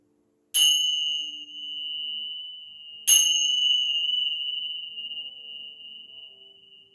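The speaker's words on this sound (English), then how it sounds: "Let your mind, your body, and your soul absorb the vibrations of the bells" Two meditation bells struck during a chair yoga class, each a clear bright strike about two and a half seconds apart, with a long pure ringing tone that decays slowly in a quiet room.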